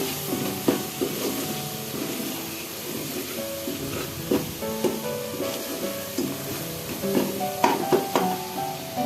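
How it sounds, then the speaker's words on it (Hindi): Masala roasts in oil in a pan for kadhi pakora, a low, continuous sizzle with scattered stirring scrapes and clinks at moderate volume, no voices. "इसको तब तक भूनना है जब तक हमारा ऑयल मसाले से अलहदा ना हो जाए"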